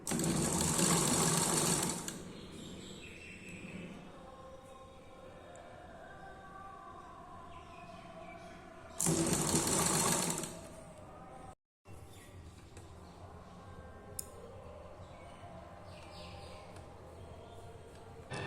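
An Usha sewing machine stitching the sleeve seam of a nightie runs loudly in two separate bursts of about two seconds each, with quieter handling and faint background sounds between them.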